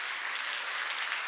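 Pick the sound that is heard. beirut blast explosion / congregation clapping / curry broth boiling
congregation clapping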